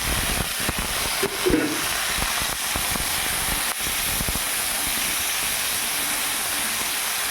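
Green peas, tomato and spices fry in a pan for a vegetarian potato curry, giving a steady, close hiss with a few soft clicks and spatters. No one talks.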